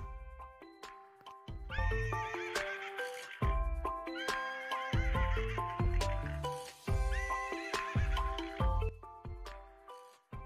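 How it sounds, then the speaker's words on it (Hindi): A horse whinnies and neighs repeatedly in loud, tonal, wavering calls, with clip-clop hoof sounds mixed in, all close and continuous. "ये है घोड़ा। घोड़ा घोड़ा को इंग्लिश में कहते हैं हॉर्स।"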